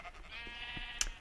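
A sheep in Minecraft SkyBlock gives a single faint, wavering bleat that is briefly cut through by a sharp click near the end.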